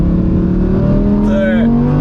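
An Audi R8 V10 engine drones steadily under load inside the car, its tone rising gradually with a brief higher whine near the end, heard over a faint background with a voice present.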